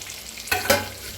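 Roasted chillies being stirred with leftover masala in a hot pan, a short scrape and sizzle rising in two quick strokes, close and fairly loud.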